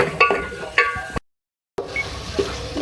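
Beef keema is stir-fried in a pan with a spatula, giving soft scraping strokes and a low sizzle. The sound breaks off for a moment of silence, then resumes with more stirring.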